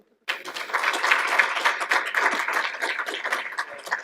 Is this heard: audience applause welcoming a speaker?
yes